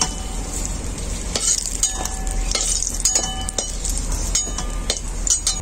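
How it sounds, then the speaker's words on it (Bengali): Eggplant slices fry in hot oil with a steady background sizzle, broken by sharp metallic clinks and scrapes of a utensil against the pan at irregular intervals; no voices. "একইভাবে আমি সব বেগুনগুলোই ভেজে নেব"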